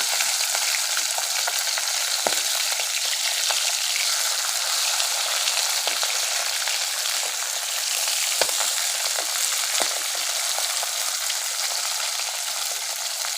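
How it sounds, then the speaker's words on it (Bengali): Pabda fish fry in hot oil in a pan, a loud, steady bright sizzle with scattered sharp pops and spits throughout, continuous and alone without talk. "বাকি মাছগুলো আমরা এইভাবেই ভেজে নেব।"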